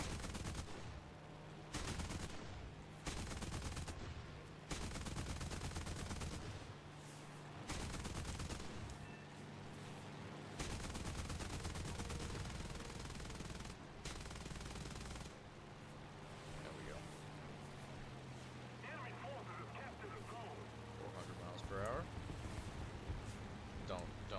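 Aircraft machine guns fire in an air battle in a War Thunder game, with a Heinkel 112 fighter among the planes, in repeated bursts of rapid gunfire broken by short gaps over a steady engine drone, faint in the mix.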